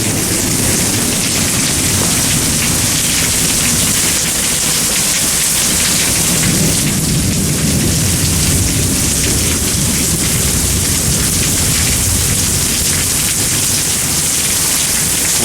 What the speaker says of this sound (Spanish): Agüita y truenos, eso es lo que es, no tenga miedo.